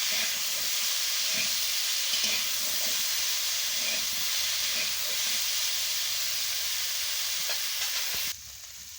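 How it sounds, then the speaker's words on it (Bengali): Cauliflower and potatoes, boiled beforehand, fry in hot oil with a steady, loud hiss and crackle for most of the clip, dropping abruptly to a quieter sizzle near the end. "এবার আমি কপি আর আলুটাকে ভালো করে ভেজে নিচ্ছি তেলে"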